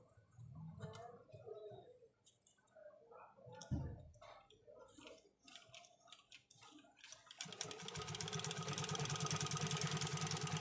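Sewing machine stitching through eight stacked layers of fabric, heard as a loud, steady, rapid mechanical whir that sets in over the last few seconds after quieter clicks and handling noises.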